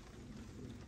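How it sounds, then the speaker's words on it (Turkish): Steady rain falls outdoors in Malaysia, a dense, continuous hiss with low rumbling underneath, even and unbroken throughout, with no voices. "Yağmur dün başladı, durmadı arkadaşlar halen."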